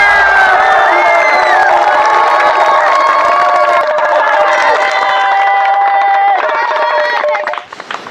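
An audience at a comedy magic show claps and cheers loudly and continuously, with whoops and shouting voices mixed into the crowd noise.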